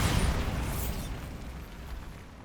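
A Bombarda blasting spell explodes in Hogwarts Legacy, a loud, deep burst that hits at once and then rumbles away over a couple of seconds.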